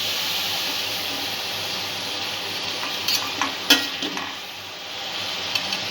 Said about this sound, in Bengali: চিংড়িগুলো মিনিট 2 আমি ভেজে নিয়েছি